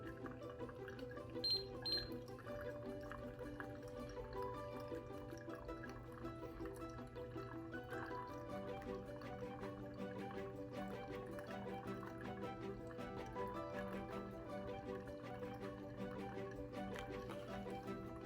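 Water poured from a kettle over coffee grounds in a V60 pour-over dripper, a faint, steady trickle with light dripping, quiet and continuous, with a few soft clinks early on.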